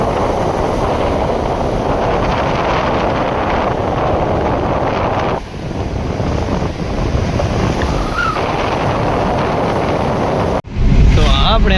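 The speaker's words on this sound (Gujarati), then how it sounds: "કેવા પણ મોજા ઉછળે હે" Heavy wind roars against the microphone as sea waves surge and wash around a boat off the Gujarat coast, a steady loud rush that dips briefly and then swells again near the end.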